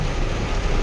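Heavy rain falling steadily over traffic on a road in Agusan, a dense broadband wash with low rumble underneath, loud and continuous throughout the short moment.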